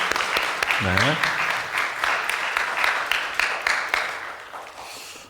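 Audience applause at a church young adult worship service in Korean, a steady wash of clapping filling the room with a brief spoken word near the start.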